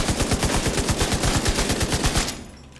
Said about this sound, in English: You're just sitting here unloading, hip firing.